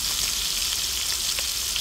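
Oil crackles and spits around galunggong fish frying in a small pan, a dense continuous sizzle with scattered sharp pops, close and fairly loud, with no voices.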